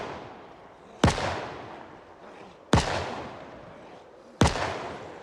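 Gunfire in Project Zomboid: three loud, sharp single shots spaced about every one and a half seconds, each trailing off in a short echoing decay.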